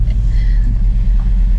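Chevrolet Camaro engine rumbling steadily from inside the car while riding, a loud, continuous low drone with slight swells and no talk.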